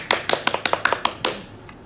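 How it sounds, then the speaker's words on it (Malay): Scattered applause for a teacher from a small audience: about nine sharp, separate handclaps spread over roughly a second and a half, then trailing off into quiet. "beri tepukan kepada Cikgu"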